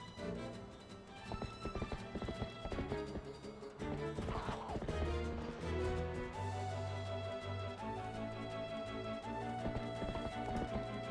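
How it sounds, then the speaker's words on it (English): Hoofbeats of a galloping horse in Twilight Princess HD rattle along in a quick, even rhythm, with game music playing over them the whole time. "That's my horse."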